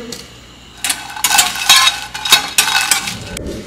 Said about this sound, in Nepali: अब चाहिँ खोर्सानी भुट्दैछु